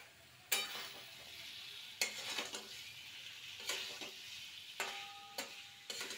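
Boiled potato pieces, cut into cubes, fry in a spice mixture in a pan. Soft sizzling runs throughout, broken by five or six sharp scraping stirs at irregular intervals.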